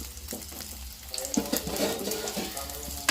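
An omelette fries in a pan until browned, making a low, close sizzle with small crackles and scraping stirs scattered over a few seconds.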